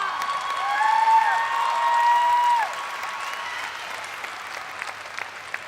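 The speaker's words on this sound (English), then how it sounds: "Give Sierra a round of applause." Commencement audience at a 2017 Rider University undergraduate ceremony applauds a graduate, a steady wash of clapping that swells and holds loud for about two and a half seconds before easing into lighter, thinning claps, with a faint tonal hum underneath.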